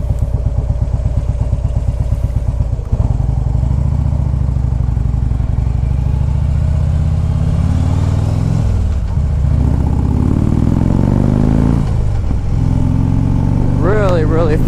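A 2014 Harley-Davidson Street Glide FLHX motorcycle being ridden, its V-twin engine loudly rumbling and pulsing, with a shift and rev around midway and wind noise, a voice briefly heard near the end.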